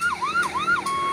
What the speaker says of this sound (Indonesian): Ini Yuda Bramajaya, mobil ambulans teman-teman. Ini untuk mengantar orang sakit